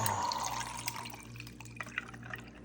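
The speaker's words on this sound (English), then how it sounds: "I'm gonna pour in the water now after it's been sitting at temperature." Water pours and trickles into a 16-ounce insulated thermal cup such as a Stanley Cup, with a close, brief splash that settles into quieter drips over a low background hum.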